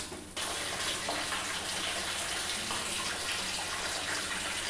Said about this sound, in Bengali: এরপর একটু জল দিয়ে দিলাম